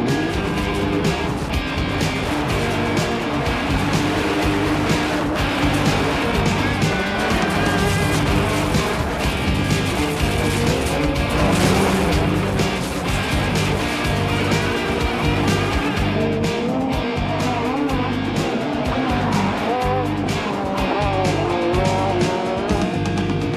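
Rallycross race cars including a Renault Mégane roar around a circuit at a 1998 championship, a continuous loud blend of revving engines, gear changes and tyre squeal under braking and cornering.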